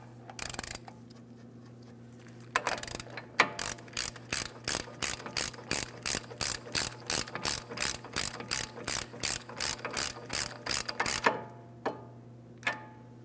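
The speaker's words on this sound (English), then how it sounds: "start it on by hand, and snug it with a hand tool, never with an impact tool" A hand ratchet snugs the front axle nut on a 2003-2008 Toyota Matrix, giving a long even run of sharp, close clicks in a steady rhythm that stops and starts in a few bursts, with no talk.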